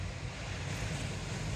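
Ocean waves at night roll in as a steady, even wash of surf with wind, continuous and fairly soft with no voices.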